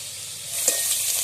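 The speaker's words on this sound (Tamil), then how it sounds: "இப்போ மிளகாயும் கருவேப்பிலை தலையும் சேர்த்துக்கலாங்க. சேர்த்து நல்லா வதக்கி விட்டுக்கலாம்." Onions, green chilies and curry leaves sautéing in a pan for a country chicken egg pepper fry give a steady, close sizzle, with a faint stir scraping partway through.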